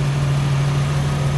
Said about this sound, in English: you can hear the car idles nicely and smoothly